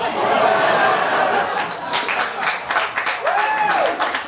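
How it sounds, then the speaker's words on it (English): An audience at a live gong show applauds, a ragged burst of clapping that swells mid-way, mixed with laughter and chuckles over a noisy crowd background. "Give a round of applause for the big black dildo for David."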